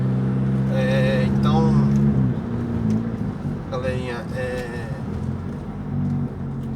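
A Fiat Bravo 1.8 with a stage 2 tune hums steadily at a low pitch, close by and fairly loud. Someone talks over it several times.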